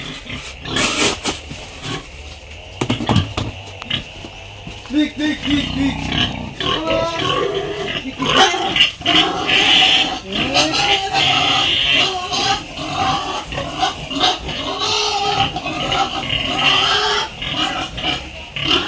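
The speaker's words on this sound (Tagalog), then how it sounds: "gustong kumain ng mga baboy ko, bibigyan natin" Pigs grunting and squealing as they are fed on a farm after deworming, a steady noisy chorus of animals up close, with a man repeatedly calling to them and talking over the feeding.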